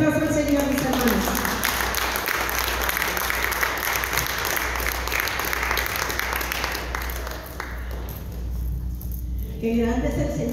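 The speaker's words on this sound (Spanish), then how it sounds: "Fuerte ese aplauso al Señor, mis hermanos." A church congregation claps for the Lord during an evening service, a sustained rattle of applause mixed with voices, music and a low hum, thinning briefly near the end before resuming.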